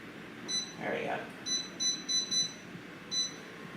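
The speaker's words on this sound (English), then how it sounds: "Where's the timer button?" A kitchen timer being set while cooking rice gives a run of short, high electronic beeps in irregular bursts, close and clear over quiet room noise, with a brief voice between beeps.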